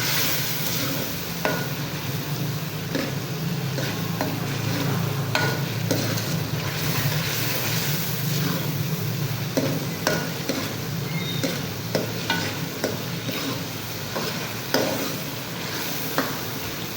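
Masala for a ridge gourd (tori) dish fries in a pan, giving a dense, continuous close sizzle with scattered scraping stir strokes and clicks throughout. Nobody speaks.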